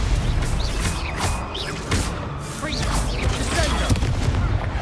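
A Stupefy spell is cast in Hogwarts Legacy amid a magical duel: booming impacts and whooshing bursts repeat over a dense, noisy fight, with voices calling out over it.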